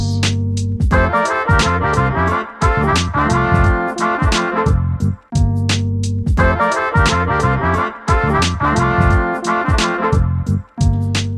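Brass-like big band horn section plays a harmonized melody in rich stacked seventh chords, steady and full, phrase repeating after a short pause, with no voices.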